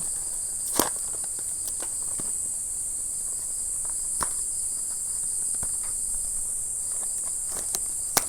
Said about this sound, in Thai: ได้ยินเสียงแมลงจิ้งหลงจิ้งหรีดเต็มไปหมด